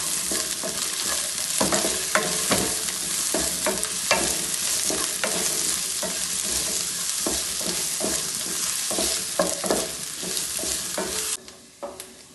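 Shallots sautéing in hot oil for a Kerala-style chicken liver roast, a loud, steady sizzle and crackle broken by repeated scraping stirs, close up and with no talking, before easing off at the end.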